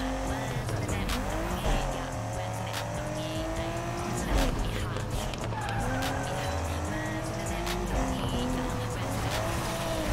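Car in the racing game Need for Speed Unbound, with engine revs rising and falling through gear changes and tires squealing through corners, loud and continuous, with occasional impacts.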